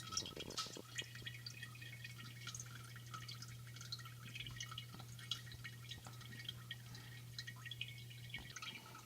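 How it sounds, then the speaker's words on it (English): Water trickles and drips over a miniature toilet fountain sculpture built for 12-inch action figures. It makes faint, continuous splashing with scattered small drips over a steady low hum. "Same with the toilet, it's just flowing over on the other side."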